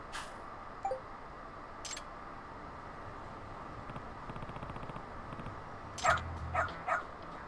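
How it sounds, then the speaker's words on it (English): A dog in the video game Lost Judgment barks a few times, with a short yip near the start and three quick barks close together toward the end, over a low steady game ambience. "Yeah, that's her dog."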